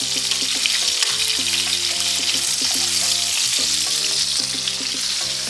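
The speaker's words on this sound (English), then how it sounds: "Now that my sausage is pretty much cooked, I'm going to take these out." Sausage frying in a pan for New Orleans style gumbo, a steady loud sizzle running throughout with no talk and a low hum underneath.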